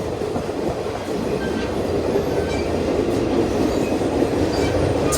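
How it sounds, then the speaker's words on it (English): Interior of an Alaska Railroad dome car running between Denali and Anchorage: a steady, loud rumble of the rolling train with faint wheel clatter and occasional light squeals throughout, no voices. "Express Alaskan Railroad train leaving Denali and on my way back to Anchorage"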